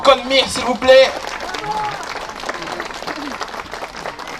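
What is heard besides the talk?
applause for a performer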